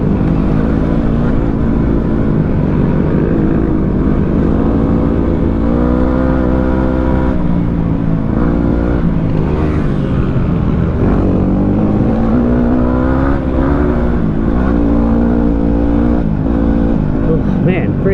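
A Yamaha WR250R dirt bike rides through woodland during a rally, its engine droning loud and continuous with pitch rising and falling as the throttle changes, while someone talks over it.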